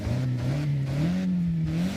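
Mazda Miata engine in a racing video game, revving steadily at a sustained mid-range pitch with slight rises and dips, close and moderately loud, alone.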